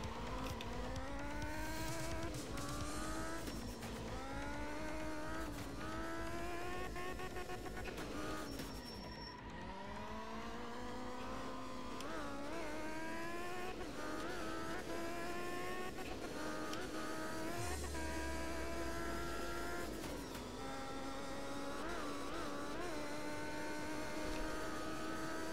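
A Group S rally car roars through a German stage in the racing game Art of Rally, the engine revving up and down through gears with sharp shifts, brake dips and tyre skids, loud and continuous with no voices.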